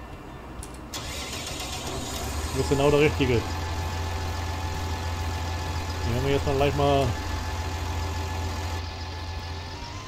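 A tractor engine in Farming Simulator 19 runs at a steady low idle through most of the clip. Two short revving bursts rise above it, and someone talks over the engine throughout.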